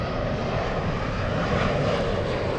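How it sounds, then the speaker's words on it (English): Boeing 777 airliner engines at Los Angeles International Airport, a loud, steady broadband jet roar that holds constant throughout with no talk. "I will zoom in to the 777."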